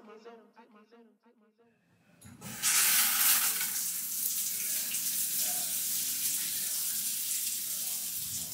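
Steak fries in a pan with a loud, steady, close hiss of sizzling that keeps up for several seconds, after a short stretch of voice at the start.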